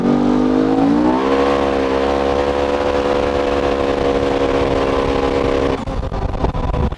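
A fully built custom turbocharged Polaris RZR side-by-side engine revs and holds a loud, steady, rising drone for several seconds, then drops off abruptly near the end.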